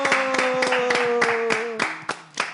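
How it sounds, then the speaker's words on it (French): An audience at a promotional event for an Orabank card claps in a quick, steady rhythm, sharp close hand claps repeating over a sustained tone that shifts and then fades. "Applaudissez. Wow."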